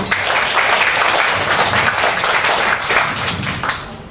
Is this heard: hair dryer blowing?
no